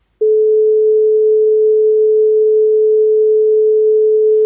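A pure 432 Hz sine tone starts abruptly and holds perfectly steady and loud, with no other sound around it.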